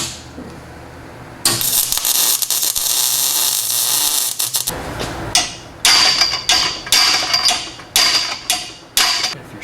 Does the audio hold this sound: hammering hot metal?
yes